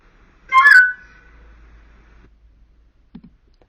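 A flute plays one short, bright, bird-like burst of notes, imitating a blackbird phrase. A faint low tap follows after a quiet pause.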